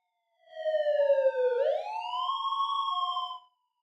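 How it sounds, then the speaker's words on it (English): A police siren in a video game wails alone, sweeping down and then up in a smooth rising-falling pitch for about three seconds, loud and clear with a bright layered tone. "Oh, I can hear the police siren."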